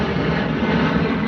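An airplane passes overhead, a steady broadband engine roar that stays loud and constant throughout without any talk.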